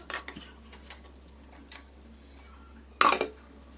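A metal lid is set onto a cooking pot of simmering potato and pointed gourd curry, giving one sharp clatter near the end after a few light clinks over a low steady hum.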